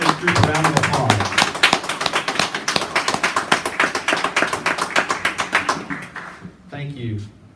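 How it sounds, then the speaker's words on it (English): At an assisted living facility grand opening, a small audience gives a round of applause, dense rhythmic clapping that starts strong, tapers, and stops, with a voice speaking briefly at the end. "give this group a round of applause"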